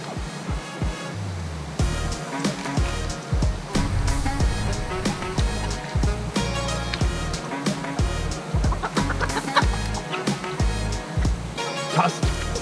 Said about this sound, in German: Und jetzt muss ich die 2 roten Hühner einfangen und rüberbringen.